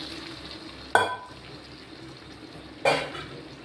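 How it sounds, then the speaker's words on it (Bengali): Hot water poured into a hot cooking pan, hitting with two sharp sizzling bursts about two seconds apart, each flaring loudly and then hissing away over a quiet kitchen background. "এবার আমি জলটা দিয়ে দেবো, গরম জল"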